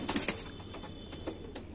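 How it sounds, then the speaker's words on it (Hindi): Racing pigeons in a back room give soft, low cooing calls in a few faint bursts with light fluttering, close by. "ये पीछे रूम में है लास्ट, और काफी हैं कबूतर"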